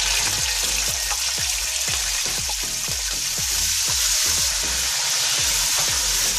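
Garlic and ginger paste sizzles loudly in a frying pan with black pepper and cloves while cooking yogurt chicken, a dense steady hiss broken by repeated stirring scrapes.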